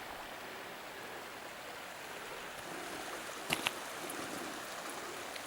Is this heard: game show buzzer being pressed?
no